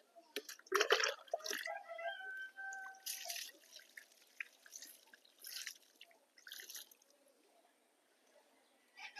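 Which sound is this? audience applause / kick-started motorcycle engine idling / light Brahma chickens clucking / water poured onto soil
water poured onto soil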